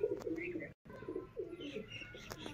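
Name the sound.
pigeon cooing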